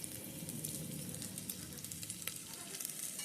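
Ingredients for pachipulusu fry in a pan with a dense, steady sizzle and crackle close by, small pops scattered through it, with no voices.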